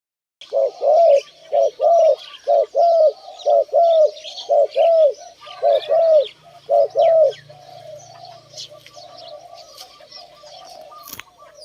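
A young spotted dove coos in a steady series of about a dozen soft, rounded notes, close and clear, evenly spaced before fading into quieter chirps and faint background sounds.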